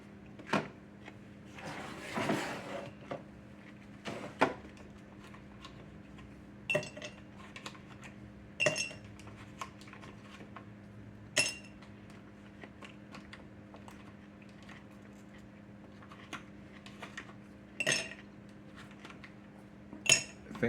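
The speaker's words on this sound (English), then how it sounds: "Let me get some ice cubes out here." Ice cubes clatter and clink into a jelly jar glass in a home kitchen, a burst of rattling followed by a series of sharp, separate clinks spread through the quiet.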